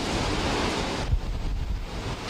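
Strong gusty typhoon wind roars loudly into the microphone, a dense broadband rush with low buffeting thumps, continuous throughout.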